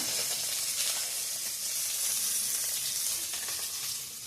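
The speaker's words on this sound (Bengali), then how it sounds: "এদিকে মাছ ভাজা হচ্ছে বন্ধুরা" Fish sizzles in a frying pan with a steady, even hiss of hot oil that holds close and constant throughout, with no voices over it.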